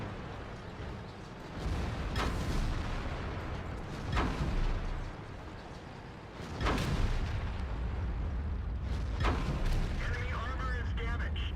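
Shells slam and ricochet off the armour of a T57 Heavy tank in World of Tanks, four sharp metallic impacts spaced a couple of seconds apart over a steady rumbling battle bed.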